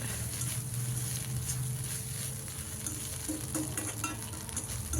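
Egg podimas frying in a pan, a steady close sizzle with soft scraping as it is stirred, continuous and even throughout.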